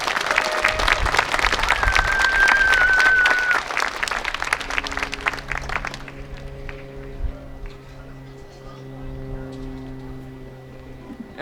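Vigorous audience applause for the children at a Veterans Day celebration, loud at first and then thinning out after about six seconds into scattered claps, a high whistle and room murmur.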